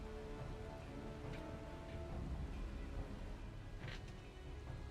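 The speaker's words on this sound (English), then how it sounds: "It was raining" Steady rain falls across a scene in the video game Final Fantasy XIV: Dawntrail, a dense continuous hiss with faint scattered drops, heard alone without talk.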